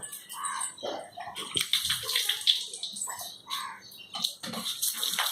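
Vestige Agri 82 mix being shaken in water, an irregular sloshing and splashing with busy liquid churning that comes and goes in bursts.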